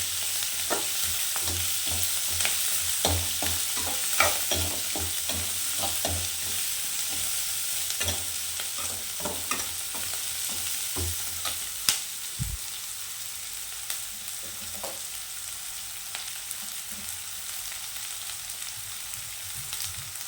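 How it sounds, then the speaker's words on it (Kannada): Onion, coriander and curry leaves frying in hot oil in a home kitchen, a steady sizzle under repeated stirring and scraping clicks of a spoon in the pan, close and continuous with no talk. "ಈರುಳ್ಳಿ ಮತ್ತು ಕೊತ್ತಂಬರಿ ಸೊಪ್ಪು, ಕರಿಬೇವು ಸೊಪ್ಪು ಹಾಕಿದೆ. ಈಗ ಚೆನ್ನಾಗಿ ಎಣ್ಣೆಲಿ ಬಾಡಿಸ್ಬೇಕು."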